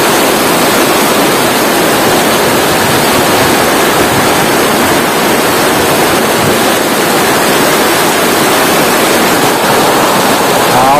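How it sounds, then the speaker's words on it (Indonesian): Heavy rain with strong wind at a garden, a loud, dense, steady roar of hiss and rushing that fills the whole clip with no break. "Semakin lebat hujannya."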